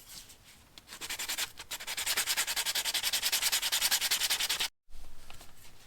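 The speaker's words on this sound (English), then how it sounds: "I'm just going to basically lightly sand this line just to help get rid of it a little bit" Sandpaper rubs lightly over a plastic Halloween skeleton in quick, regular back-and-forth strokes, a close, steady scratchy rasp that pauses briefly before resuming.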